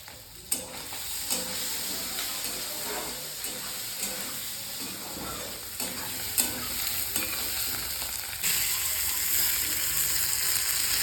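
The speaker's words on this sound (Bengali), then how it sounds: "এবারে তেলের মধ্যে সব আলু ছেড়ে দেওয়া হলো এক এক করে।" Potatoes sizzle and fry in hot oil in a wok, with a steady crackling hiss broken by regular scraping clicks of a stirring utensil close by, and no one speaking.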